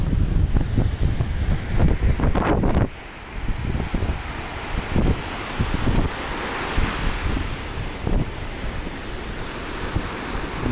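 Small storm at sea near Alanya in January, with surf pounding a narrowed beach and steady wind gusting across the microphone; waves roll in continuously, loud and close, with a brief drop in the wind partway through.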